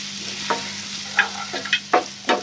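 Finely chopped garlic cooks in a pan for a spinach mushroom soup: a soft sizzle bed broken by several sharp, close scraping strokes of a spoon at uneven intervals.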